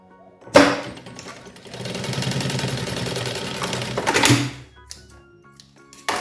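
A sewing machine stitching a pouch's fabric lining right side to right side, a steady mechanical whirring run of rapid stitches lasting a few seconds, bracketed by clunks and a sharp knock at the start and end.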